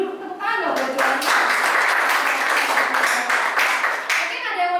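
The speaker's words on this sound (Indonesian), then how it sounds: "Berikan dulu tepuk tangan dong buat Giovanni." A classroom of students breaks into a brief burst of clapping that swells quickly and fades after a few seconds, with a voice speaking just before and after.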